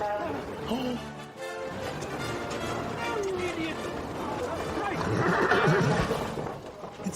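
A carriage horse neighs loudly and whinnies nearby, mixed with hoof clip-clops and people talking over it.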